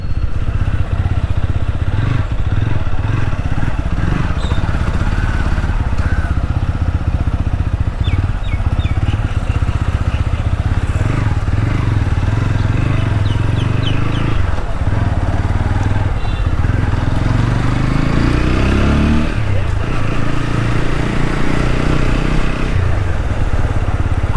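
A TVS Apache RTR 200 4V motorcycle being ridden in urban mode, its engine droning steadily and close with shifting revs, clatter and road noise throughout.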